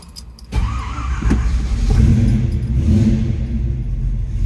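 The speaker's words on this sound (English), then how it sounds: "That 390 starts easily." A 1967 Ford Mustang coupe with a 390 V8 cranks and catches at once, then settles into a loud, steady, deep idle rumble close by.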